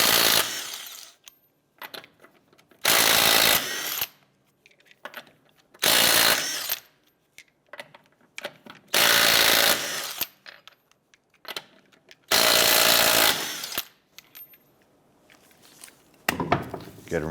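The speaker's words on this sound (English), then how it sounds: "let's go ahead and remove our lug nuts." Rear lug nuts on a 2009-2015 Honda Pilot being spun off with a 22mm socket on an impact tool, five loud buzzing bursts of about a second each, separated by quieter clinks and handling noise.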